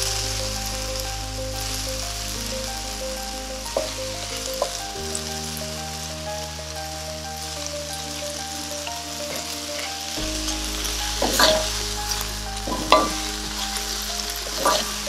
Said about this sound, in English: So we're stewing the tomatoes before we add the salmon.